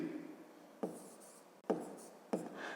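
Numbers written by hand, three short scratchy pen strokes spaced roughly a second apart, close and quiet over faint room noise.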